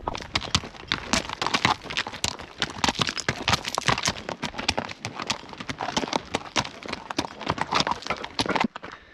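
Pack horses' hooves clip-clopping on hard ground outdoors in the wild west, a close, loud, continuous run of uneven overlapping clops from several animals.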